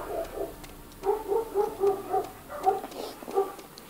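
Zombie hellhounds in the Kino der Toten map of Black Ops Zombies give a run of repeated whimpering barks and growls, fairly faint, under game noise with no talking.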